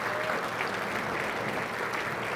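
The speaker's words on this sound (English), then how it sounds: "Big round of applause for State Representative Philip Cortez" An audience applauds a Texas state representative at a 2014 congressional district address, a dense, even wash of clapping that holds steady throughout.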